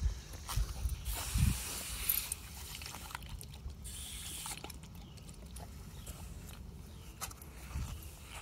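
Water hisses steadily from a garden hose during outdoor watering, with a dog playing in the spray and occasional splashes and thumps.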